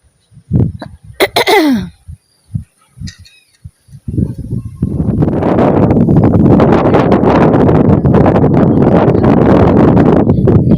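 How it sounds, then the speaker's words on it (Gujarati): A few short sharp bursts and a brief squeaky sound come first, then strong wind buffets the microphone in a loud continuous rumble. "ઠંડો ઠંડો પવન આવે છે"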